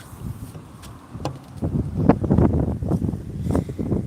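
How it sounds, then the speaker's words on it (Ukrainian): Gusty wind buffets the microphone with low rumbling bursts that grow stronger partway through, along with some rustling outdoors. "вітер на дворі вітер"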